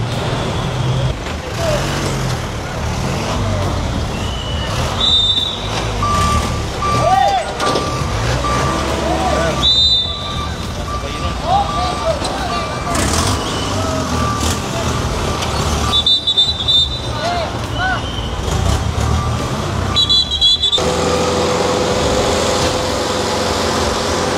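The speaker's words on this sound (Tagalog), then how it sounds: "Toto, pag nag-start yung towing, paki-manage mo isagad mo doon para one lane lang." Tow truck beginning to haul away a parked car on a street, with repeated high reversing beeps in several bursts over steady truck engine and traffic noise, while people talk nearby.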